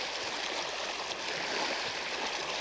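A river stream rushing around a wading fly fisherman in Alberta, a steady broadband wash of flowing water, close and even throughout, with no voices.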